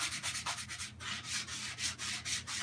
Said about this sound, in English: you get this 80 grit sandpaper. All right, you start knocking down the sanding